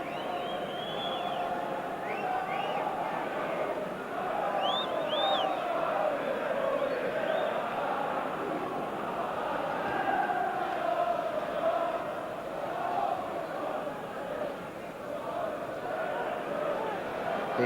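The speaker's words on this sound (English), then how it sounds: "Parler getting a fair old bit of stick from the crowd here." A football crowd at a 1994 Premier League match between Newcastle United and Arsenal jeers and barracks a player, a steady distant roar of massed voices with whistles rising over it, running under close commentary throughout.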